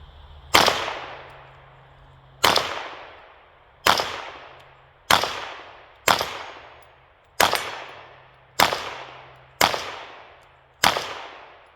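Nine sharp gunshots from a Kel-Tec CMR-30 rifle, state-compliant model, fired at a slow, uneven pace a second or two apart, each a loud close crack with a short ringing decay, no talk.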